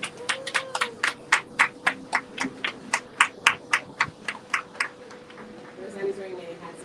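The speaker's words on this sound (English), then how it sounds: "Give her another clap, please." An audience applauds someone speaker at a film event with a run of steady, evenly spaced claps that stay fairly loud, then thin out and stop, with faint murmuring at the end.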